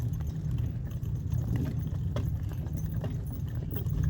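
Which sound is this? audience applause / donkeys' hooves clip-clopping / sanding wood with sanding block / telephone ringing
donkeys' hooves clip-clopping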